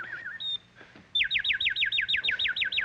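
A person imitates bird calls with whistled chirps: a short warble and a lone high note, a brief pause, then a fast, even run of about a dozen bright, repeated tweets, up close and clear.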